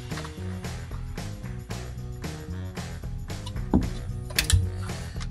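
A fastener on an LC LJ Torana quarter vent window frame is tightened with a ratchet, giving steady rapid clicking in close, even strokes with a few metallic clunks toward the end.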